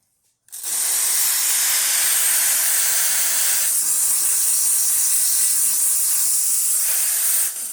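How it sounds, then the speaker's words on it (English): The steam wand of a Proflitec 500 espresso machine, freshly serviced after a full tune-up, opens with a sudden loud, steady hiss that holds for about seven seconds before cutting off, close and without talk. "so let's test the steamer."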